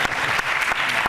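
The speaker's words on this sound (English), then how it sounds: "You can applaud." Brief stretch of audience applause at a televised town hall meeting, steady dense clapping from a crowd filling the moment, fairly loud and close.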